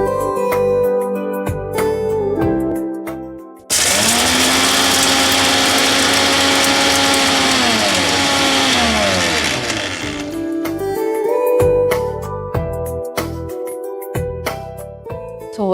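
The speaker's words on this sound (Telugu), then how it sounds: "ఇది మిక్సీ పట్టేసుకుందాం" An electric mixer grinder blends roasted gondh laddu ingredients in a loud, close whirring burst of about six seconds that winds down in pitch as it stops. Quieter kitchen sounds come before and after it.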